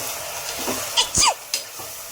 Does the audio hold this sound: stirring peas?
yes